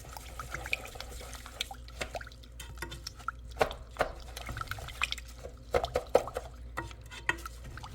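Raw rice is stirred with coconut water in a rice cooker pot, giving soft wet sloshing and intermittent clicks and scrapes of the utensil against the pot, close and fairly quiet.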